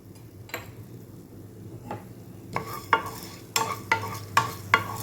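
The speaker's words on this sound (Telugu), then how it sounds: "ధనియాలు వేసుకుంటున్నాను." Coriander seeds added to lightly heated coconut oil in a pan, stirred with scattered soft sizzling crackles and a few sharp ticking clicks of a spoon against the pan, close and quiet with no talk.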